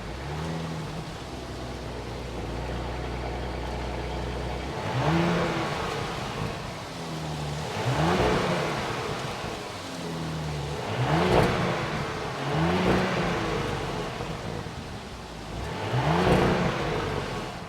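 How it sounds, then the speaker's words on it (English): A 3.0-liter turbocharged V6 engine in a 2025 Audi Q7 idles, then revs up sharply about five times in a steady rhythm, close and loud, with no talking. "that was the sound of the 3-liter turbocharged V6 engine sold by Audi"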